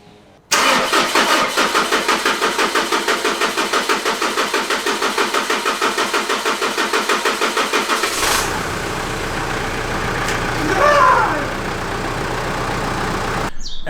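A Mitsubishi Pajero Sport with a 4M41 diesel engine cranks with a long run of rhythmic starter pulses, then catches and settles into a steady close-up diesel idle.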